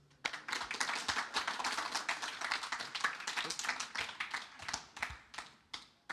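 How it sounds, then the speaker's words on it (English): Audience applause fills a conference stage at a tech summit, a dense run of clapping hands that rises sharply and keeps up steadily for several seconds before thinning out at the end. "Once again, big round of applause."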